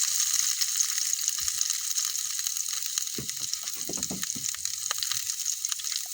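Onion and garlic sizzle in a hot pan, a steady bright frying hiss throughout, with a few soft stirring scrapes and knocks partway through.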